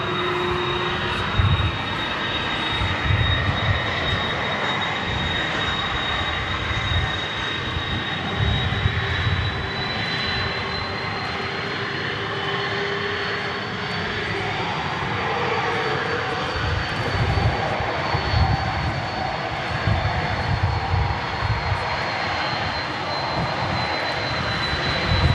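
Airliner engine at DFW Airport, heard from a distance as a steady, continuous roar with a high whine running throughout, under outdoor ambience.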